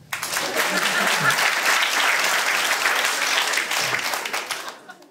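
A comedy club crowd applauds loudly as a vote, sustained dense clapping from many hands that holds steady for several seconds before tapering off.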